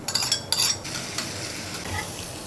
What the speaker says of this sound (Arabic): انا بحب اشوح الثوم شويه